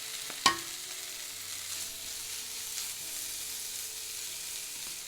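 Kimchi with garlic and green onion stir-fries in a lightly oiled pan as enoki mushrooms are added, a steady close sizzle broken by a sharp clatter early on and faint scraping stirs.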